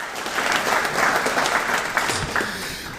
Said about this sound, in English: let's give Arnolds Park a big round of applause